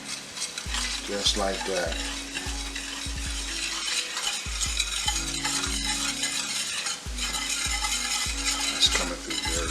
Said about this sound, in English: we just want to stir this